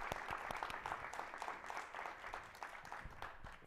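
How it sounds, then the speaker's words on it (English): An audience applauds panelists at a panel discussion on reparations for Black Americans, with sustained dense clapping at moderate volume and no voices over it. "Now, please give a round of applause to Professor Linda Bilmes and Professor Cornell Williams Brooks and Deborah Douglas."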